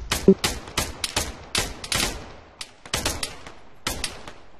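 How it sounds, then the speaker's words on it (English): A rapid exchange of gunfire in the military shooter Arma 3: a dense run of loud, close shots and short bursts, with uneven spacing and brief pauses between volleys. "Under fire! Enemy fire!"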